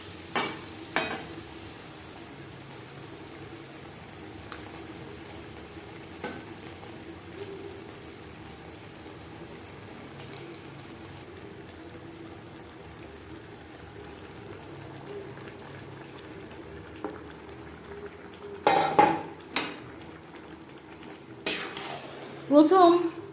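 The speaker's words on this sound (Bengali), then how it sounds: "পেঁয়াজের সাথে মাংস বেশ ভালো করে মিক্স করে দেব।" Chicken meat is stirred into onions in a hot pan for a restaurant-style potato chicken curry. A soft, steady sizzle runs under scattered scrapes and taps, with a few louder utensil clanks near the end.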